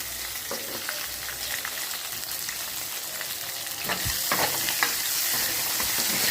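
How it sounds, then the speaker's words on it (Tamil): Chopped onions with salt sizzle and crackle steadily in a pan for a mushroom curry, with occasional stirring scrapes and a louder burst of frying partway through. "வெங்காயம் நல்லா வதங்கணும் பாருங்க"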